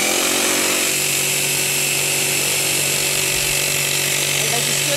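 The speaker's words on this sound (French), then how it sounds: "il faut que tu prennes la scie" A saw cuts wood for a bed headboard in a loud, continuous, close-up buzz that holds steady throughout, with people talking over it.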